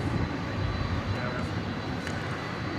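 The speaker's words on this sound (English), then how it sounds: "There goes that Frontier plane, which is getting ready to head off to the Mile High City." A Frontier jet airliner's engines roar steadily at DFW Airport at night, a broad continuous rumble holding level throughout, with faint voices in the background.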